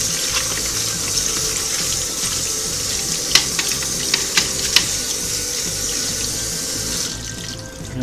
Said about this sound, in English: And we're just going to rinse them off.